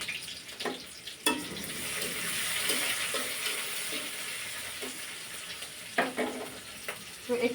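Chopped onion frying in oil in a home kitchen pan, a soft continuous sizzle with occasional stirring scrapes and clinks, faint and close.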